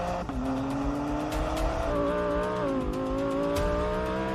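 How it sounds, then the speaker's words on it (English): A BMW M3 CS Touring and an Audi R8 GT launch off the line on cold tyres with wheel spin, loud sustained engine drone with rising revs and tyre noise, no talking. "Good launch, wheel spin, cold tyres."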